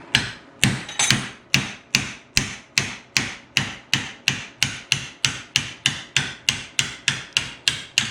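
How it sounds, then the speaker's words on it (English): Front axle king pin bushings are hammered out of a 1954 Henry J gasser, and each sharp metallic blow rings close and loud in a steady, even rhythm, about two strikes a second, with no voices. "One more bushing out."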